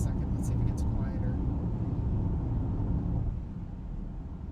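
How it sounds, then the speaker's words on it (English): Steady low rumble of tire and wind noise inside a Honda Prologue Elite AWD electric SUV on the road, a constant roar that eases slightly as the road surface changes. "Definitely less tire noise. Still a lot of wind noise."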